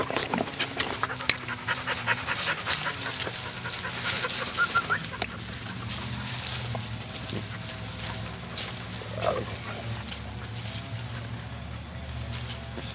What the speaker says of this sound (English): here we see Mercedes playing with several other dogs